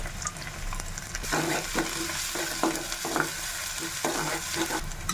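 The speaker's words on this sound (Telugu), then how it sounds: "ఉల్లిపాయ వేగిన తర్వాత అల్లం వెల్లుల్లి పేస్ట్ వేసుకోవాలి" Onion and ginger-garlic paste frying in a pan for a capsicum curry: a steady sizzle with stirring and scraping strokes, close and continuous, with no talk.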